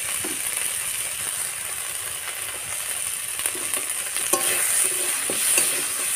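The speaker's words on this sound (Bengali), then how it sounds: "ভালো করে মশলাটা কষতে হবে" Spice masala with red chili powder being stir-fried in a pan for a prawn and pointed gourd curry, steady sizzling with scraping stirs and occasional sharp clinks of the spoon against the pan.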